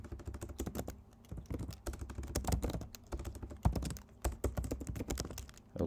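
Rapid, irregular keystrokes on a computer keyboard while code is typed in Xcode, close and clear, with bursts and short pauses and no talking.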